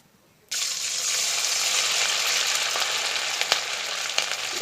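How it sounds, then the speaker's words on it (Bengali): Semolina sitabhog sweets frying in hot oil, a loud continuous sizzle that starts abruptly and holds steady, with a few faint clicks over it. "তেলে কিন্তু আমি এই সীতাভোগগুলো ভেজে নেব"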